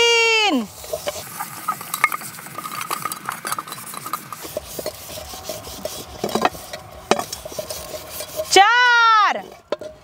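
Utensils being scrubbed by hand while washing dishes, a rough, rapid scraping and rubbing that carries on steadily for several seconds. A voice speaks briefly at the start and again at the end.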